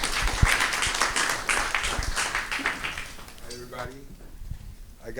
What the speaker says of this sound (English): Danilo Perez, which we welcome with a big applause, please, Danilo.